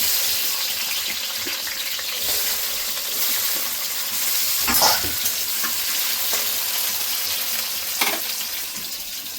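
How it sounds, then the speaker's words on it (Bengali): Tomatoes sizzle and spit steadily in a hot pan for chili chicken, with a broad continuous frying hiss and a few louder stirring scrapes around the middle and near the end. "টমেটো দিয়ে দেবো, টমেটোটা ভেজে নেব।"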